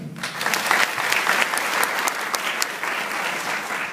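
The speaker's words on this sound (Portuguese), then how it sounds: "Palmas para Mazinho." An audience at a spiritual gathering applauds during a tarot reading, a steady, fairly loud patter of many hands that holds throughout without fading.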